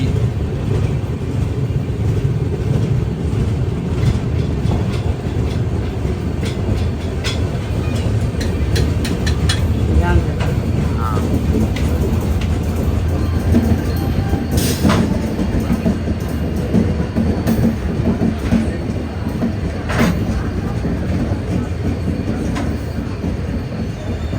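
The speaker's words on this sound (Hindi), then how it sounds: "सामने से आ रही है मुंबई सेंट्रल से चल के गांधीनगर कैपिटल को जाने वाली वंदे भारत एक्सप्रेस।" Vande Bharat Express running from Mumbai Central to Gandhinagar Capital, heard as a loud, continuous rumble of rail cars with wheel squeal and clickety-clack throughout, close by and steady, with no talk.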